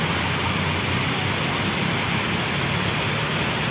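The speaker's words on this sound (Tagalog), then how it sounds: "Malakas ang ulan dito sa Quezon Hub." Heavy rain pours down at Quezon Hub during a sudden afternoon downpour, a loud, constant, close roar of water with no break throughout.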